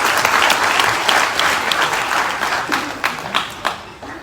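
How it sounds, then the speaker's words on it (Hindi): Loud, dense applause from a crowd at the Azadi March rally in Delhi, a steady wash of many hands clapping throughout, with a few sharper bursts near the end. "इनके लिए जोरदार तालियां"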